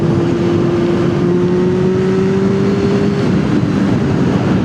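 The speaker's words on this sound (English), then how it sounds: "this bike still sounds so good and aggressively loud" A four-cylinder motorcycle engine drones steadily at close range, loud and throaty with a faint rising whine, and no voices over it.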